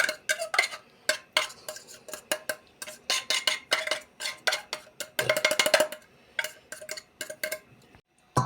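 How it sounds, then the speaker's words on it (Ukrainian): Canned tuna scraped out with a fork into a salad bowl for a Chinese cabbage salad, a busy run of close, sharp metal-on-dish clinks and taps, clustered in quick bursts with brief pauses, no voices. "Висипали ми наш тунець, ось так"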